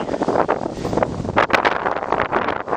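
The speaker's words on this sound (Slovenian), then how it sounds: "ja, močno piha" Strong wind gusts over a wooded hilltop summit, roaring and buffeting the microphone in uneven surges, loud and close, with no voices.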